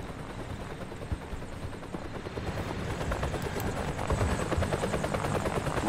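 Helicopter in the Korean War game Theatre of War 3: Korea, a dense continuous rotor chop and engine roar that grows steadily louder and nearer, with no talk over it.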